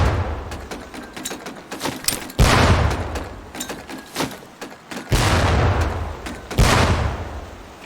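Training grenades bursting against target barrels on a boot-camp range in Medal of Honor Pacific Assault, a series of heavy booming explosions with rumbling tails, three big blasts standing out among smaller thuds.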